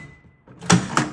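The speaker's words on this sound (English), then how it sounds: "oh, wait, oh, door open." A Farberware countertop microwave door pops open with a couple of sharp, close clicks and a brief clunk after a short quiet hum, loud and alone.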